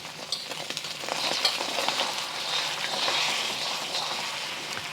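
Eggs fry in a hot, oiled, well-seasoned wok with a steady, close hiss and crackle, joined by light stirring and scraping throughout.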